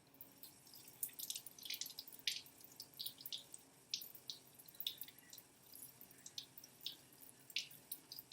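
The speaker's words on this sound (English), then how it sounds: "I'm going to super carefully run it underneath some water." Tap water runs softly over a shell-less egg, dissolved-shell science demonstration, giving a faint, steady splashing with scattered drips and trickles, close and quiet with no talking.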